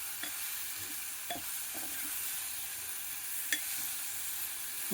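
Onions, green chillies and ginger-garlic paste fry in a pan for bendakaya pulusu, a steady soft sizzle with a few sharp clicks of stirring scattered through, no voices.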